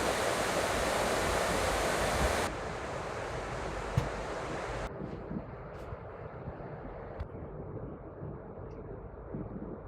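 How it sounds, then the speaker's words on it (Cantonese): A Predator Helios 16 gaming laptop with an RTX 4080 runs its cooling fans, giving a loud, steady airy whoosh that drops in pitch and intensity in stages across the clip, heard alone without speech. "呢度俾大家聽下風扇聲音啦"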